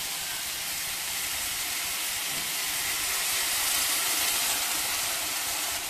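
Ground masala paste frying in a pan with onion and tomato for a yam and onion curry, producing a continuous dense hiss of sizzling close by with no talk.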